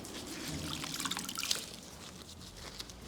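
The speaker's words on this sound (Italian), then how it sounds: "si prende un panno in microfibra pulito, acqua pulita, sempre calda, panno strizzato e si sciacqua" Wet rinsing of a concrete-effect chalk-painted restaurant table with a wrung microfibre cloth and warm clean water: soft dripping and trickling with scattered splashy droplets, steady and fairly quiet, no voices.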